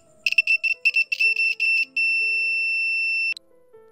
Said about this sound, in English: When you apply DC voltage to an active buzzer, you can hear a tone.